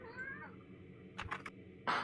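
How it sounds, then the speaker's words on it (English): A house cat meows indoors, a soft drawn-out call early on, then a few short chirping mews and a louder final meow, fairly close in a quiet room. "Come to see me, kitty cat."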